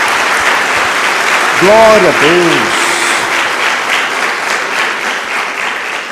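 Congregation applauding in a church service, loud sustained clapping from many people throughout, with a voice calling out briefly over it near the start.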